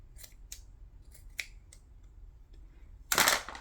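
Several quick, crisp scissor snips cut playing cards at an uneven pace, followed by a louder rustling burst of paper at the end.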